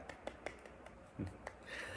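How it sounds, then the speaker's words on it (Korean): A small round of applause at a Korean church youth Sunday worship service: a handful of separate, sparse claps scattered unevenly, quiet and close, swelling into a softer cluster at the end. "각자의 자리에서 작은 박수 부탁드리도록 하겠습니다"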